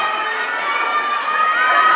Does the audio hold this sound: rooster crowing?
no